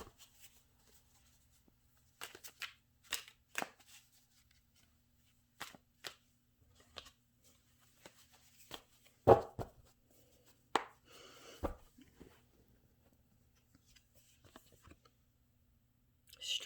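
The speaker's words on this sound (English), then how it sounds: "Okay, I'm just going to shuffle your cards." Tarot cards are shuffled and handled close by in a quiet room, making sparse, crisp riffles, slaps and clicks separated by short silences.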